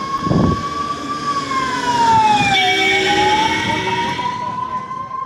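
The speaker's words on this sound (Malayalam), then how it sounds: "ആംബുലൻസ് സ്പീഡിൽ വരിക" An ambulance siren wails steadily as the vehicle speeds down a hill road toward Pampa, loud and close with a rising and falling pitch, over road and engine rumble.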